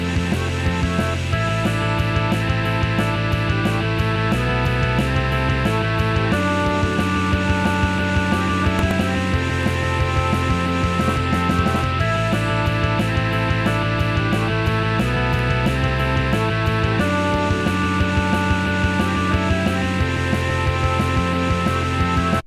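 In the last chorus of a rock song, the intro vocal part is layered in over the full band: a dense, loud, steady wall of distorted guitars, bass and pounding drums with a repeating riff pattern, playing continuously throughout.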